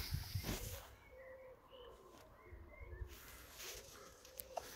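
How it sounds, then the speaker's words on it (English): Doves coo faintly in the distance at Nunnington Hall gardens near York, UK, low soft repeated calls over a quiet outdoor background with occasional rustling nearby. "Can you hear the doves cooing away there?"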